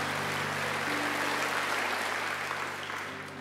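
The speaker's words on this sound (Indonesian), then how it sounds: "Tepuk tangan buat Allah kita." A church congregation at a worship service applauds in a steady, dense wash of clapping that carries on evenly for a few seconds and tapers slightly at the end, with a low hum underneath.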